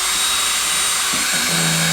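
A power drill runs with a steady, loud whine close by, pitch shifting slightly as it works.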